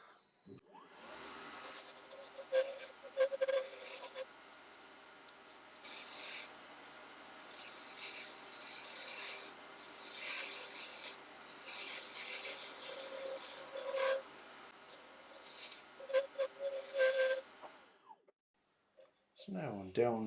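A stabilized chestnut burl pen blank spins on a wood lathe while a tool cuts it down toward the bushings, giving a steady, close raspy scraping that rises and falls in bursts, with occasional voice alongside.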